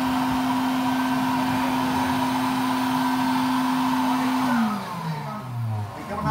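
Vacuum cleaner used to remove bees in an old basement workshop. It makes a loud, steady whine with a sustained hum, then the pitch drops and wavers near the end as the motor slows or is loaded.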